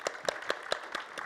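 Audience at a debate on Africa-Europe relations applauding, with sparse, distinct claps in an uneven rhythm, fairly faint and without voices.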